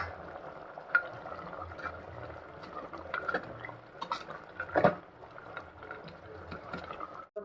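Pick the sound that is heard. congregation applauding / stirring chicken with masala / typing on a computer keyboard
stirring chicken with masala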